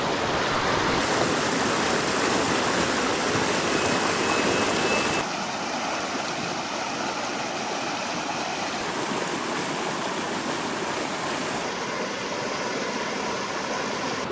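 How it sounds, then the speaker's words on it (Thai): A forest stream rushes steadily nearby, a continuous broadband wash of flowing water, louder at first and then settling to a slightly softer, even flow. "ยังเป็นลำธารที่กว้างขนาดนี้เลยนะครับ"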